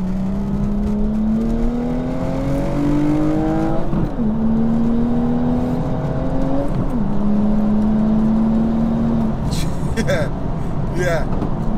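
A modified wide-body BMW M235i making 500 bhp accelerates in long rising pulls through two upshifts, its engine tone climbing steadily from inside the car while occupants talk over it.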